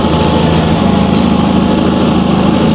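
A rebuilt Toyota Altezza engine runs steadily at a loud, even idle-like hum, continuous and close with no talk over it.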